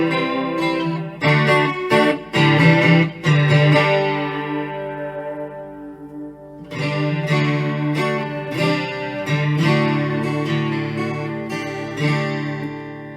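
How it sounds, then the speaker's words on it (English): Electric guitar played through a chorus pedal with reverb on a Fender Acoustasonic 40-watt amp, with chords and notes ringing out in shimmering, sustained bursts, then a brief decaying pause before the strumming resumes, loud and close. "let's turn the chorus pedal on with the reverb"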